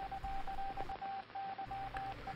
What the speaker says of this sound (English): the ant will vibrate the abdomen as signal to tell their friends that they have found a good plant to collect leaves from